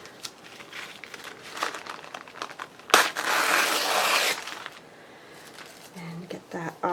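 A strip of craft tape is pulled off its roll in one sharp, close ripping burst lasting about a second, set among softer paper crinkling and handling noises, with brief speech at the end.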